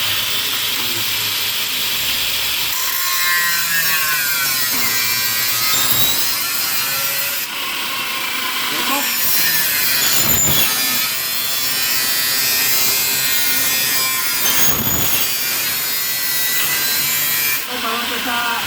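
Wood pieces being cut with a power saw for a DIY build, long loud rasping cuts repeated several times with brief pauses between passes, close by.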